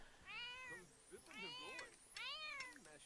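A cat in The Sims 4 meows three times in a row, each call a drawn-out rising and falling mew, clear and close, with quiet game background between calls.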